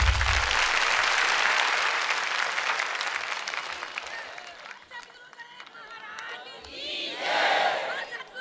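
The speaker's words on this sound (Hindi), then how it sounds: "ये तालियां और जय तो नेताओं के लिए रखो" Loud applause and cheering from a large audience at a spiritual discourse, dense clapping swelling at first, then thinning out as a speaking voice comes through, with a brief burst of chanted cheering near the end.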